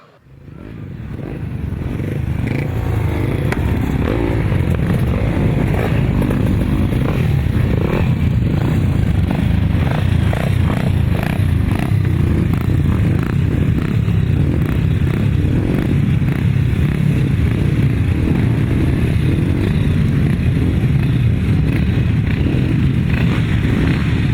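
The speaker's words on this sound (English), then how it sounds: "Race 14 next, that's 250cc solos." 250cc solo motorcycles race at a grasstrack meeting, a loud, continuous engine roar building in the first seconds and holding with fluctuating revs and some clatter, no voices over it.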